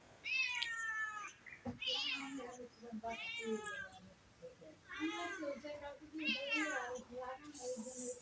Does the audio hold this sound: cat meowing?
yes